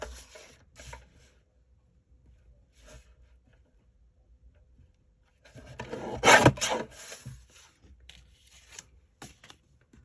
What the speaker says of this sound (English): I'm going to cut it down again just to the 6 inch mark